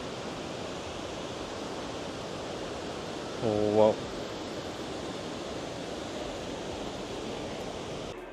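Iguazu Falls on the Brazil side sends up a steady, broad roar of falling water that fills the air without a break, while a person lets out a brief exclamation partway through.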